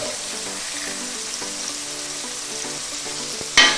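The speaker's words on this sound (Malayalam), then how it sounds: "ഈ സവാള പച്ചമുളകൊന്ന് ഒന്ന് വാടി വരണം" Onions, green chillies and ginger fry in a pan with curry leaves for a raw mango curry, a steady close sizzle with faint stirring clicks running throughout and a sharper scrape near the end.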